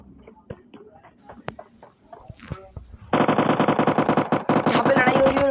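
Automatic gunfire erupts loud and dense midway through a video game firefight, sustained rapid bursts after a stretch of quieter game sounds and faint talk.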